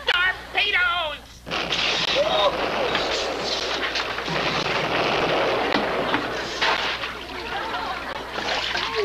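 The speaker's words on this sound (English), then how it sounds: "Fire torpedoes!" A loud, rushing torpedo-firing effect from a 1986 comedy TV sketch starts abruptly after a brief shouted line and holds as a dense, watery roar with bubbling for several seconds.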